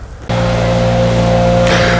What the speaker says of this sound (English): Apparently my neighbor's having a leaf blowing party.